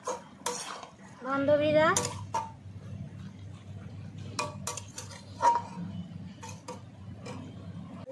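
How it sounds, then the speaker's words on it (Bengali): A spatula scrapes and clanks against a pan while aubergine, pumpkin, potato and greens are stirred and fried, with intermittent metallic knocks and sizzling underneath and a voice speaking briefly. "এবার ঢাকনা খুলেই একটু ভালো করে কষিয়ে নেব বন্ধুরা"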